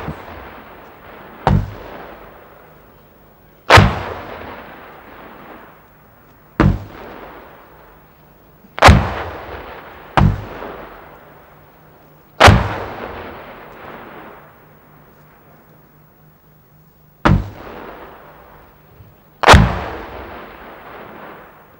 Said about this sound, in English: The replay showed the rounds bursting above the enemy position.